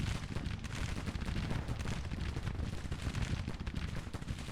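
Civil War battle in the strategy game Grand Tactician, with dense rolling musket fire and artillery booming around Milltown, a continuous distant roar of shots without any speech.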